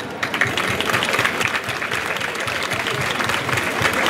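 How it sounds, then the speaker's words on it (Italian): A crowd at a town event in Gottolengo gives a big round of applause, continuous dense clapping with faint voices underneath. "vi faccio un grande applauso."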